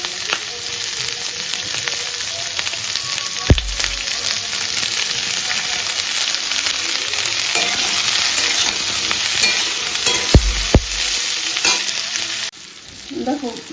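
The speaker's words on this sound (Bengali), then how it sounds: "হালকা করে ভেজে নিলাম।" Bhetki fish pieces fry lightly in a pan with a steady, close sizzle, interrupted by a few sharp clinks of a utensil against the pan before the sound drops away near the end.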